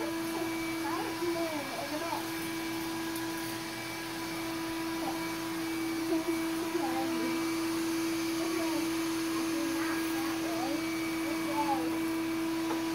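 A Bissell Lift-Off stick vacuum cleaner runs indoors with a steady, fairly loud motor whine throughout, while a voice chatters intermittently over the hum.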